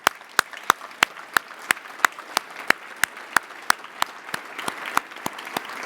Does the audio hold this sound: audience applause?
yes